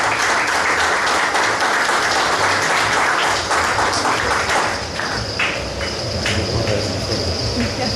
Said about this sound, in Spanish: con unos aplausos también.